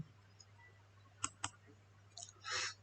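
Two sharp clicks a moment apart, then a brief rustle and a short burst of hiss, over a low steady hum in a quiet room.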